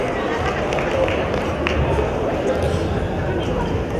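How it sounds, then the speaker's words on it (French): Wedding guests applaud together, a steady wash of clapping from a crowded room mixed with murmuring voices and scattered chatter, continuing throughout without a clear start or end. "Est-ce qu'on peut applaudir pour Rebecca, s'il vous plaît? On applaudit très fort"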